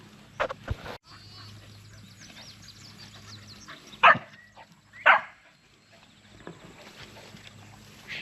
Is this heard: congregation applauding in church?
no